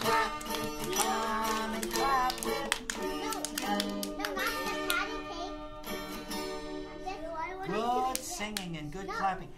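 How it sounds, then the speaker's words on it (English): A children's sing-along with hands clapping in time to the song, the steady claps sounding over a singer's voice and music throughout. "Oh, come on and clap, clap, clap, clap."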